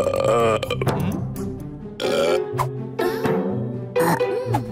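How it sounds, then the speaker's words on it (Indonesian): A Smurf cartoon character lets out a series of long, exaggerated, croaking burps. Several loud, drawn-out belches follow one another in quick succession, each with a rough, gurgling tone. "Kau sebut suara menyedihkan itu sendawa?"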